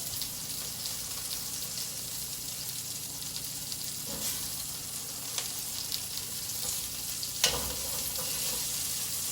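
Pepper for a lamb paella garnish sizzling in a hot pan, a steady, fairly quiet frying hiss with occasional crackles and pops, no one talking.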